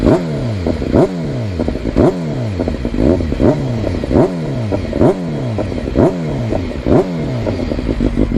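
A BMW S1000XR motorcycle engine runs close by and is blipped in a quick, regular rhythm, each rev swelling and dropping about once a second over a rough idle.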